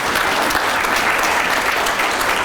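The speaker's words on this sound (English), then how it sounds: "Give yourselves a big round of applause" A conference audience claps in sustained, dense applause, loud and continuous throughout with no pauses.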